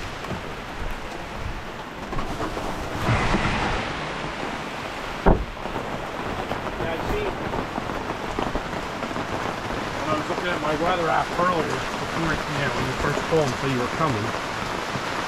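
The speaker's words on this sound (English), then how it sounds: "this is when it starts raining the best" Steady rain falls outdoors during firewood loading work with an IBC tote, a constant wash of patter heard alongside work noises and a brief thump, with a person speaking briefly.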